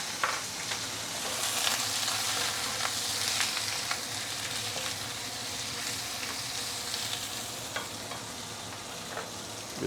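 Vegetables stir-fried with instant Maggi noodles and char siu in a hot pan give a steady, close, loud sizzle, broken by scraping and clattering from stirring. No one speaks.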